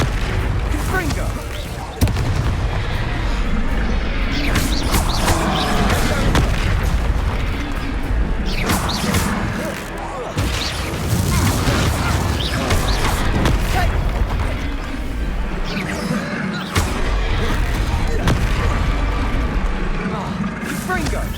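Confringo blasting spells explode in Hogwarts Legacy combat, a string of heavy booms and impacts over constant game action, with voices speaking throughout.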